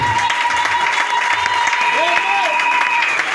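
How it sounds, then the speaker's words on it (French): Church congregation applauding during a French-language worship service, a steady patter of clapping with a sustained tone and a voice briefly audible over it. "Acclamons Jésus et les bénis"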